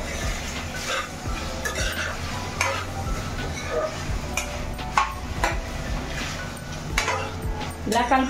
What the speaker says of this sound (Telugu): చికెన్ వేసుకున్నాక ఇలా కలుపుకోండి.